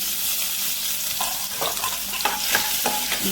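Crushed garlic and onion frying in hot oil with mustard seeds, a loud continuous sizzle broken by several sharp spoon-against-pan stirring knocks, close up with no talking.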